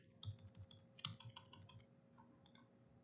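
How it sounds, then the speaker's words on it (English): Arrow keys on a computer keyboard pressed while working in TinkerCAD: a quiet scatter of separate plastic clicks in small irregular bursts, close by and alone, with a pause before a last few taps. "The arrow keys are going to be really useful for doing this kind of work."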